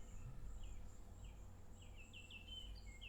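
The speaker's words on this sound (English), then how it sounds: "Birds sound pretty, don't they?" Birds outdoors give faint, distant chirps and short whistled calls in scattered bursts over a low steady hum and a thin high insect-like tone.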